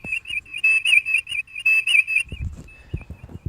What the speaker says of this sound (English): You got your bridge noises going on there.